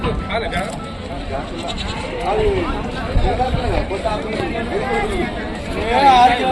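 Young goats bleat repeatedly at the Rajarampalli livestock market, where goats and sheep are traded, with steady crowd chatter and voices behind the cries.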